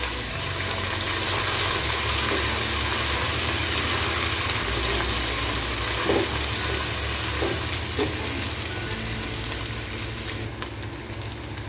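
Ginger and garlic paste frying in a pan for daal mash, a steady close sizzle running the whole time with a low hum underneath and a few faint clicks.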